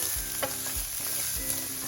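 Garlic and chana dal sizzle in oil in a pan while being stirred, with a steady frying hiss and regular scraping strokes of the spoon against the pan, close and clear, no voices.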